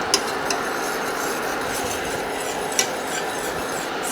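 A sugar mixture for a pancake-cake filling, with lemon juice, is stirred steadily in a pot, giving a soft continuous scraping swirl with a few light clinks of the spoon against the pan.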